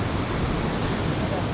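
Ocean surf washes onto a beach at Las Americas, Tenerife, a dense, steady broadband roar of breaking waves, loud and close, with no distinct individual wave sets over the short stretch.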